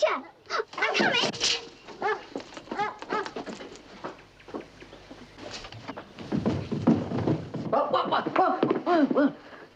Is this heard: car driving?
no